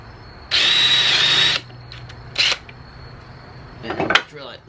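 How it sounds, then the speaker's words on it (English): A handheld power drill whirs through a hole for a DIY balloon arch frame in one steady, close burst of about a second, then a brief second burst, followed by quieter handling noise. "and then we'll drill it."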